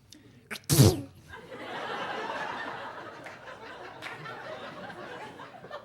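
A comedian on a comedy club stage imitates a 3-month-old baby's sneeze with his voice, one sharp, loud burst, followed by a swell of audience laughter and chuckling that slowly fades.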